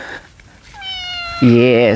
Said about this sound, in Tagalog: yung ating magiging alaga na pusa dito kay Tatay Romy po mga kabayan